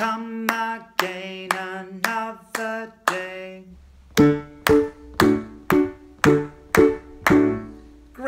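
Hands clap out a simple song rhythm in a music lesson, about sixteen sharp, evenly spaced claps in two phrases, close and clear, with a short sung line at the start.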